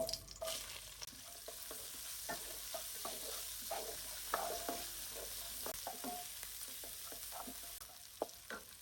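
Onion and garlic frying with panch phoron in hot oil for a bhindi (okra) dish, a soft, continuous sizzle broken by scraping stirs and small clinks of the utensil against the pan.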